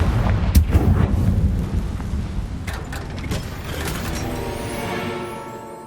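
Confringo fire blast spell in Hogwarts Legacy bursts out with a loud, rumbling whoosh and crackling impact, then fades into a softer ringing tail.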